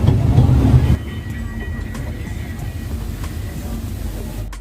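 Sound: tourist train riding

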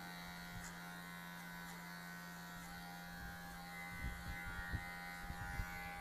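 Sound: electric hair clipper cutting a drop fade haircut

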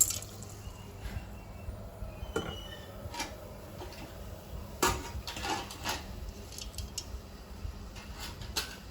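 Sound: rice being added to boiling water in a pot

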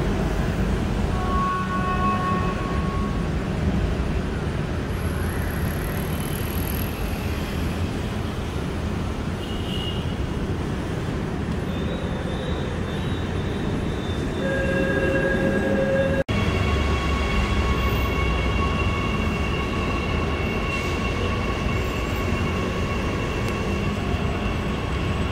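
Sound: LRT Jakarta light rail train departing

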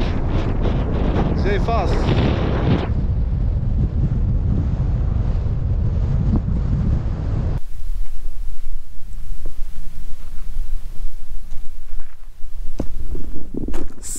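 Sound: wind

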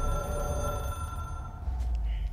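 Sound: telephone ringing in the video game Control

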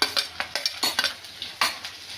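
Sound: ginger, green chili and garlic being sautéed and stirred in a pan

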